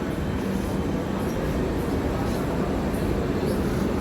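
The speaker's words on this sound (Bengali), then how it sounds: "অন্য একটা ট্রেন এসেছে স্টেশনে।" A train rumbles into a station on a journey toward Tarapith, a steady, loud low roar with rattling carriage noise filling the whole stretch, no voices heard.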